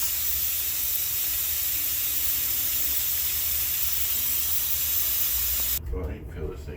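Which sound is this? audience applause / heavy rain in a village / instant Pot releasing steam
instant Pot releasing steam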